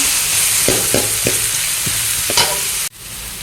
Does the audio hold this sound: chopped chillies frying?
yes